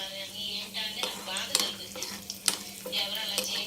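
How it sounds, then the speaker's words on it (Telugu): Raisins hit hot oil in a pan just off the stove, giving a light sizzle with clinks of a utensil against the pan and a few sharp scraping taps throughout. "ఈ వేడి మీద కిస్మిస్ వేసేద్దాం."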